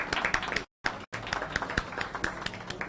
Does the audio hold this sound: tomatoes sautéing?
no